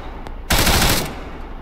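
A single rapid burst of enemy machine gun fire in ARMA 3, loud and dense for about half a second before fading, with quieter combat ambience before and after and no talking.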